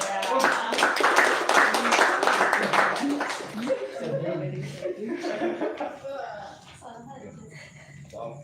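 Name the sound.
audience clapping hands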